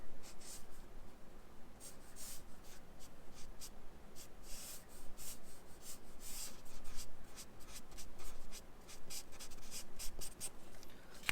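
Copic markers color a car design on paper, a close, quiet series of scratchy strokes in uneven rhythm, some short and some drawn out, with no talking.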